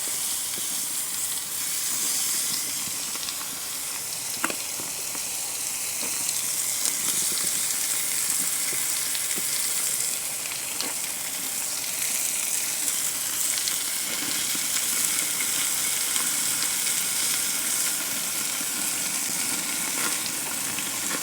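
Chicken pieces and pork belly sizzle straight over hot charcoal on a grill, a steady dense crackling fry with scattered pops that runs unbroken throughout, close and without talk.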